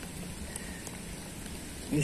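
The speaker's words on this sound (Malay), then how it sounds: "Aduh, hujan terus. Makin lebat hujannya." Heavy, steady rain falls on a riverside during a fishing trip, making a dense, even hiss with a few scattered drop taps, and a louder patter swells at the end.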